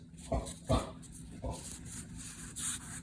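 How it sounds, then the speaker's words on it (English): A dog barks at its full food bowl indoors, a few short separate barks and whimpers close by, followed by quieter noises. "He's barking at his food bowl"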